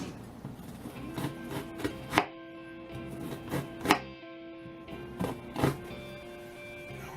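A knife cuts the top off an onion on a cutting board, several distinct chopping knocks at irregular intervals, close and moderately loud over faint background noise.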